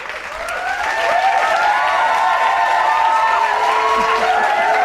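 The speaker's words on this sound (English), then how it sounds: "he pushes the button that makes them clap" Canned studio-audience applause triggered from a sound-effect button: a dense, steady wash of many hands clapping with some cheering mixed in, loud and close, holding for the whole stretch.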